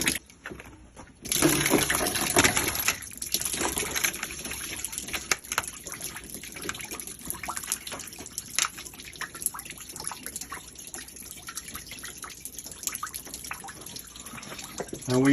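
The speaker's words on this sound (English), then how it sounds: "We're gonna check all the water coming back at us." Water gushing and splashing back out of a very greasy sewer line as it is drained into a garbage can, a steady loud flow that starts abruptly after a second and continues with dripping and spattering.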